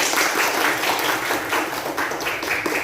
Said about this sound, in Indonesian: Silakan beri tepuk tangan untuk Lori